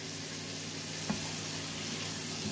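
Seafood and vegetables for pasta sautéing in a pan, a steady soft sizzle with one brief clink partway through and no talking.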